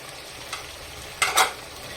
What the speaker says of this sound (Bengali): আমি ভালো করে নাড়াচাড়া করে নেব মশলাটা কষা হয়ে গেলে